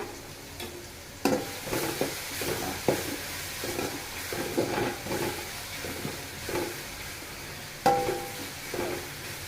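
Ingredients sautéing in a pan for a Chennai-style fish curry: a low sizzle under irregular scrapes and knocks of a spoon stirring against the pan, close and moderately quiet, with no talking.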